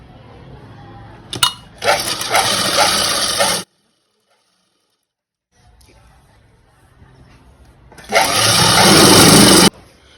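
A sewing machine stitches flared umbrella gown fabric at a half-inch seam, running in two steady whirring bursts split by a few seconds of near silence.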